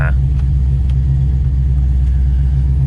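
A Chevrolet Camaro ZL1 idling steadily in warm-up mode, a deep continuous low rumble held at a constant pitch throughout, close and moderately loud with no revving.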